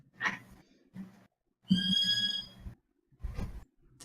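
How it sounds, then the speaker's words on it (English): A bird lets out a brief squeal with a bright harmonic tone in the middle of the clip, set between a few short low thumps and knocks in a quiet room. "The bird squealed."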